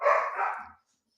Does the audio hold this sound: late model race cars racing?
no